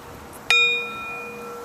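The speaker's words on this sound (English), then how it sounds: "Feel the vibrational frequency of the Tibetan bell as it permeates throughout your being." A Tibetan bell at a full moon ceremony is struck once, giving a bright, clear ding that rings on with a sustained, slowly fading metallic tone over low background noise.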